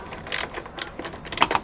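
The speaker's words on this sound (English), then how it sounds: "So take your socket of size 10 and remove those two bolts." A 10 mm socket ratchet turning out bracket bolts on a motorcycle's coolant reservoir, making a quick series of light, close metallic clicks in short bursts.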